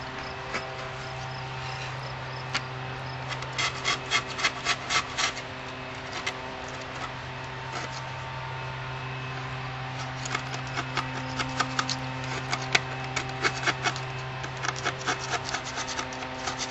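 Old paint gets scrubbed off a Dynascope telescope tube in quick bursts of rasping rubbing strokes over a steady low hum and faint insect-like whine, fairly quiet and close, with no speech.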